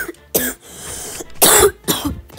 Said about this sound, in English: I keep coughing for no reason